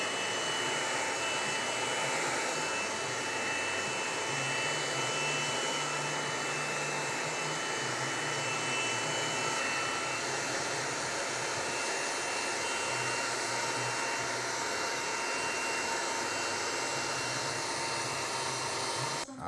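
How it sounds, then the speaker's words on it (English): A hair dryer blow-dries wet hair during a haircut, a loud, steady, close airy roar running without a break, its tone shifting slightly as it moves. "now I'm gonna blow dry his hair a little bit just so it's not so wet"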